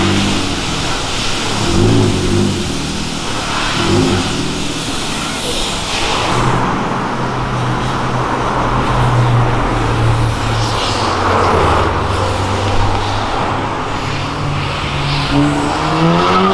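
Sports car engine roaring and revving loudly up close at a Porsche and Ferrari street scene, a steady droning growl that rises and shifts pitch as it accelerates, continuous throughout.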